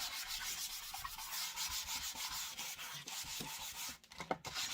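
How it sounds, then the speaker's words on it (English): Sandpaper scuffing the sealant on a piece of furniture in quick, rhythmic back-and-forth strokes, close and fairly soft, with a short pause near the end. "So I'm just going to scuff this up."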